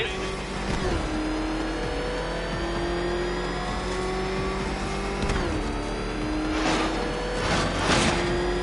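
A car engine in a Batman video game chase revs and shifts through rising gears with a loud, continuous roar, accompanied by tire noise and game effects, as a voice talks over it.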